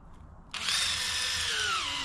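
A power drill whirs steadily into a tree stump for about a second and a half after a brief quiet start, its pitch sagging slightly under load.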